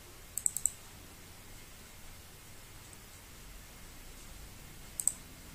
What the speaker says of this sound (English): Just go for that and double click.